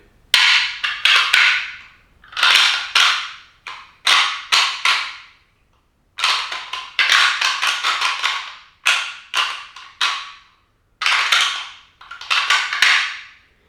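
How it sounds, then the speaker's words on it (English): Whitetail deer antlers clashed together hard in an aggressive rattling call, loud close bursts of clattering and grinding clicks in irregular clusters separated by short pauses; no talking. "I'll hit the horns together hard, and it kind of sounds something like this."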